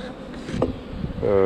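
Honeybees buzzing at an open hive, a close, steady drone with a brief louder pass as one flies near, with a voice partly heard over it.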